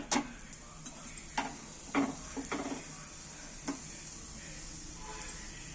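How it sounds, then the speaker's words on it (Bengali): A paratha fries in oil in a pan with a steady soft sizzle, broken by several sharp clicks and taps of a spatula against the pan. "পরোটাটা লাল লাল করে ভেজে নিয়েছি, দেখছো? দু সাইডটাই লাল লাল করে ভাজা হয়ে গেছে।"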